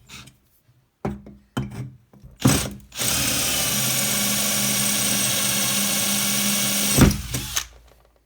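Parkside PBSA 12 C2 12V cordless drill driver drilling, with a few short bursts followed by one long steady whirring run of about four seconds, close and fairly loud.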